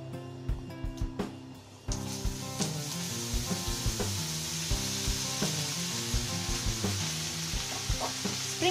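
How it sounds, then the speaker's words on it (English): Spring onions drop into hot oil seasoned with turmeric, and a quiet pan jumps into a loud, continuous sizzle, with rhythmic clacks of a spatula stirring throughout. "Now we'll add the spring onions"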